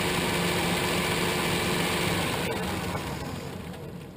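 A South Bend CL187RB 10-inch by 32-inch tool room lathe motor runs with a steady, loud broadband hum and whir, holding even throughout and easing off slightly toward the end.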